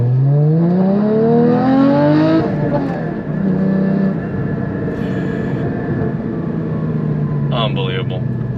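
A modified Porsche Cayman GT4 with a six-speed manual accelerates hard, its engine note climbing steeply in pitch before settling into a steady loud drone, with someone talking over it from inside.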